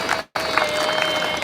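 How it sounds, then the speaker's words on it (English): A crowd applauds at an outdoor team presentation for a Tour Down Under cycling race in Victoria Square, Adelaide, greeting a South African rider with a brief, steady wash of clapping that follows a sudden short dropout. "give him a nice round of applause"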